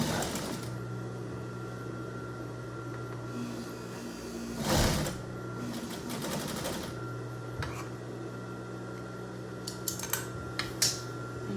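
A sewing machine stitches a small shirt-tail hem on an apron: quiet, steady whirring runs under soft clicks and taps, with a brief louder burst midway and a few sharp clicks near the end.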